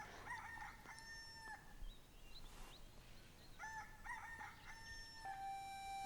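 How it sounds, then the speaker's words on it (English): A rooster crows several times in fairly quiet surroundings, with drawn-out, ringing calls and short gaps between them. Nobody talks. "The rooster is crowing."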